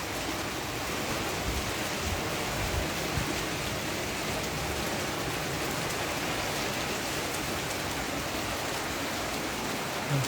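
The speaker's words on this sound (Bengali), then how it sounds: "ঝড় চালু হয়ে গেল" Heavy rain and wind from Cyclone Remal over the Bay of Bengal pour down in a dense, steady roar that holds evenly for about ten seconds, with no voices.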